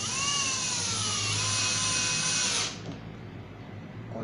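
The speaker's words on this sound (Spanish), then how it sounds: "Vamos a colocar el primer tornillo estando muy pendientes de que cuando hagamos tope nos detengamos en el apriete." A power drill whines steadily at high speed while driving a screw into a pocket hole joint made with a Pocket Jig 200, loud and close, then stops abruptly and leaves a faint hum.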